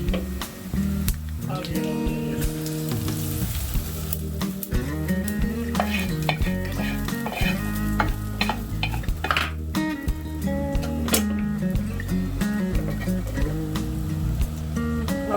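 Steady sizzling of cumin seeds in hot oil for moong dal tempering, with stirring and occasional clinks of a utensil against the pan, close and continuous throughout.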